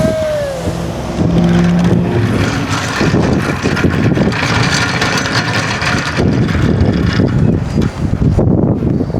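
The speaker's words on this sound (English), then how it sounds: "There's cars right there." Cars pass close by on a road, a loud sustained roar mixed with heavy wind buffeting on the microphone, with no clear break between vehicles.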